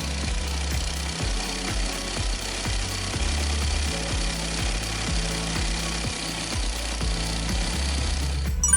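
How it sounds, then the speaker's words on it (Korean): A two-stroke brush cutter engine idles steadily and loudly during carburetor adjustment, its rapid even firing pulses continuing without speech. "시동이 꺼지지 않을 정도, 날이 회전하지 않을 정도의 회전수로 조정합니다."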